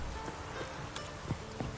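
Steady rain patters on surfaces in The Witcher 3: Wild Hunt, a constant dense hiss with occasional heavier drops, heard on its own.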